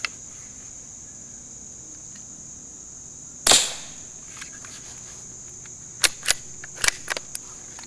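One muffled crack from a suppressed .22 rifle, followed by a few light mechanical clicks, all over a constant high-pitched insect hum.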